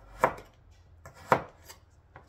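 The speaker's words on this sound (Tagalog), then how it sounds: "ang hiwa naman ng carrots natin, panipis na pahaba" A knife cuts carrots into thin long strips, giving two crisp, close chopping knocks on a board about a second apart, then a few lighter taps.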